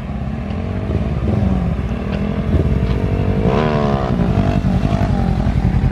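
A motorcycle passes by, its engine rising from a low drone to a loud, close rev with a clear pitch sweep as it goes past, then holding a strong buzzing roar.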